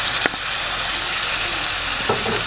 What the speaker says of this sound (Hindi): अब इसको भूनेंगे इसमें।